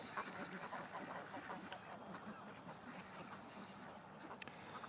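Ducks out on the water honk and quack faintly in scattered calls over a soft, distant background murmur, with no clear talking.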